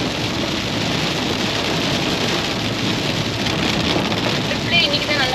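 Heavy rain on a road trip toward Varkala in Kerala pours down in a steady, loud, unbroken wash that holds evenly throughout.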